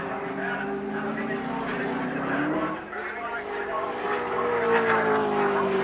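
Touring cars racing at Symmons Plains in a 1983 championship round, engines droning steadily with rising and falling pitch as they pass, continuous and fairly loud beneath commentary.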